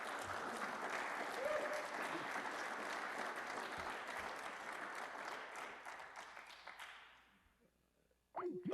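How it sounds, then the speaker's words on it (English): Sustained applause from an audience at an evening gathering, steady and dense for several seconds before fading out, followed by a brief voice at the end. "Another round of applause for Stephen"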